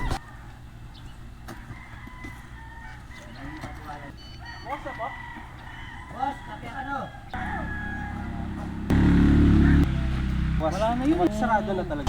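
Chickens cluck and a rooster crows nearby in a forest area in Bamban, Tarlac, with people talking over a steady outdoor background hum.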